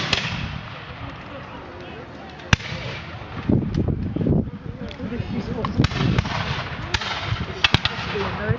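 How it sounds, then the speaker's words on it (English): Musket volleys at a Revolutionary War reenactment battle, divisions firing in turn: scattered sharp reports rolling out at a distance over an outdoor field, a few louder cracks standing out, with faint voices in the background. "one division will fire and then they'll reload while other divisions fire"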